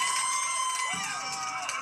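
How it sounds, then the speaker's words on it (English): A crowd in football stadium stands cheers and whoops loudly and continuously at a home game, with a high voice rising above the roar partway through. "They're cheering for a very special player."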